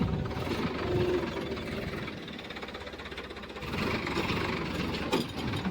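A tractor engine runs on a farm, a low, continuous mechanical rumble with faint rattling and knocking, fairly quiet and even throughout without speech.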